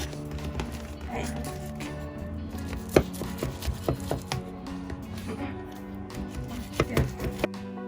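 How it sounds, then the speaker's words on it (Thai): A knife chops through freshly baked lasagna in a series of irregular taps and thuds, with music and voices playing in the background. "กำลังหั่นลาสัญญาอยู่ค่ะ"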